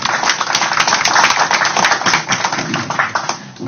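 An audience gives loud, brisk applause to welcome a speaker at a cultural heritage event in Peru. Dense, close hand claps continue throughout.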